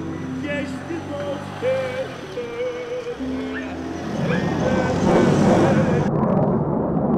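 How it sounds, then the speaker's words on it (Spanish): Someone talks while a low roar of an airplane engine swells and grows loud overhead toward the end, near an air base in Eskişehir, Turkey. "En Esquillejir todo el tiempo están pasando aviones porque es una base"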